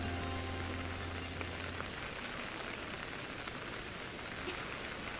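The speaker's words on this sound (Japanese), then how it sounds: "めっちゃ雨降っとるやん。" Heavy rain falls in Pokémon Legends: Arceus as a dense, steady hiss of drops that runs throughout. A low game tone fades out early and no one talks.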